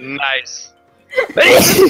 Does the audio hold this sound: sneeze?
yes